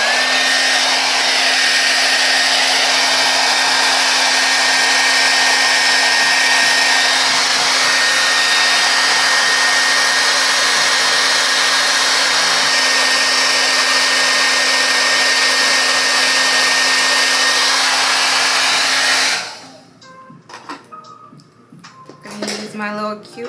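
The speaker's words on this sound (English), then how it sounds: "Take my blow dryer on a cold, literally the cold setting." A hair dryer on its cold setting presses down the lace of a burgundy curly wig, giving a loud, steady close whoosh for about nineteen seconds before switching off, followed by quiet handling noises.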